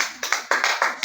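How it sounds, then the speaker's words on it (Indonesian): A few pairs of hands clapping in a classroom, five or six sharp, close claps in an uneven rhythm over about a second, with no voices. "Oke, kita beri tepuk tangan."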